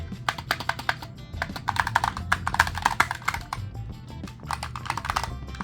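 Keys clatter on a Razer Huntsman Tournament Edition TKL keyboard with linear switches, a dense run of fast taps with brief pauses, close and steady, with no speech.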